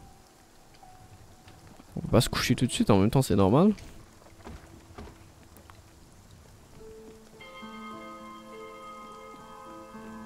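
Storm rain in the video game Spiritfarer gives a steady, soft patter throughout. Someone speaks briefly in French near the start, and gentle tonal game music comes in toward the end.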